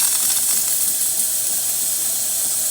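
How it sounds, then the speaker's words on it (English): Steady, loud hiss of steam rushing from the steam wand of a Jura coffee machine after a full service, continuous and close with a faint low mechanical rumble beneath and no voices. "Nice steam coming out of the machine"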